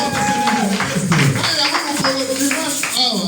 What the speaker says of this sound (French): Acclamons très très fort pour